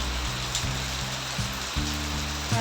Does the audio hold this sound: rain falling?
yes